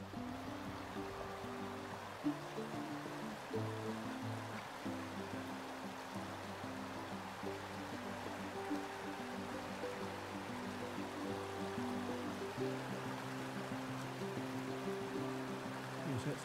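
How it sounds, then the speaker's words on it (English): Big Sandy River in the Wind River Range flowing steadily, a continuous broad rush of water heard throughout without a break, with low tonal rumbling underneath. "That's the Big Sandy River."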